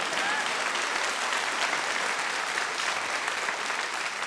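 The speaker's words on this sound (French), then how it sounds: "J'unis dans les mêmes applaudissements Annie Le Youdek." Theatre audience applause at a stage comedy performance, a dense, even wash of many hands clapping that holds steady at a moderate distance throughout.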